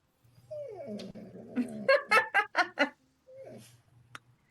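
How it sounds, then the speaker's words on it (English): A dog whines for attention, with a long rising whimper and then a quick run of five or six sharp yips close by, followed by another short whine, all without speech. "Sorry if you can hear our whiny dog who just constantly wants attention."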